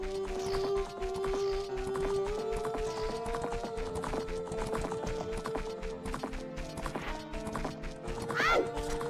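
A horse's hooves clip-clop steadily in a video game, a brisk, close rhythm of hoof beats over continuous background music, ending with a short high squeal.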